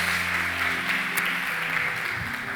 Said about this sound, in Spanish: Fuerte aplauso para él, por favor